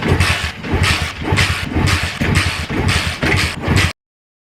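A brand new engine runs after starting fluid was sprayed into the intake: a loud, close, rough, rhythmic chugging that cuts off abruptly near the end, with no talk.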